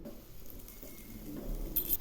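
A cheese paratha fries in a lightly oiled pan, giving a soft steady sizzle that swells and crackles louder toward the end, close and with no talking.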